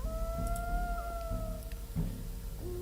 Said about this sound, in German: Ich höre Wölfe. Wo sind die?